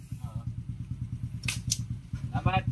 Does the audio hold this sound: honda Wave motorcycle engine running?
yes